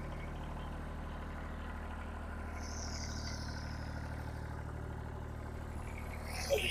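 A Kubota BX2660 compact tractor engine idling at a raised idle of about 1500 rpm, a steady low, even diesel drone that stays constant throughout, with a faint rattle near the end.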